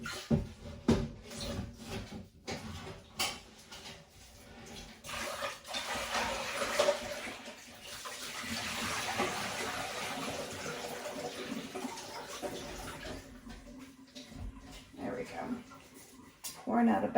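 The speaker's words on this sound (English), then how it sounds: "Pouring out a bunch of the water." Water pours and splashes from a pot into a sink while making apple butter, a continuous rushing gush that swells and then tapers, with clanks of cookware and a person talking over it.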